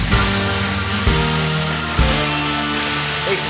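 An automotive spray gun lays coats of car paint onto a test card, a loud continuous hissing spray with faint pulsing in the background.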